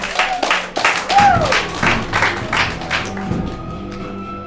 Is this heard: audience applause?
yes